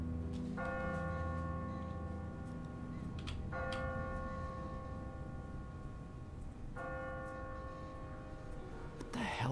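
Three separate strikes of a church bell toll at an even, slow pace over low background rumble in The Walking Dead video game, each ringing out before the next.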